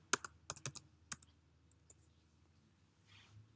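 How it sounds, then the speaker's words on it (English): A burst of quick keystrokes on a Mac computer keyboard while entering an administrator password during a Microsoft Office install, about eight crisp clicks in the first second, then a couple of stray taps and quiet room tone. "Type your administrator password in."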